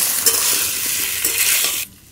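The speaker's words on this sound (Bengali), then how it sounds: "এবার দিয়ে দেবো আলুগুলো আলুগুলো নাড়াচাড়া করে একটু ভাজতে থাকবো" Boiled potato cubes stirred and fried in a pan produce a loud, close, hissing sizzle with intermittent scraping strokes, ending suddenly just before the clip closes.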